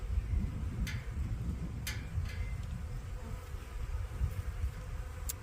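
Honeybees buzz steadily around an active backyard hive, a dense continuous drone up close with a few sharper passes as individual bees fly near, alone without talk.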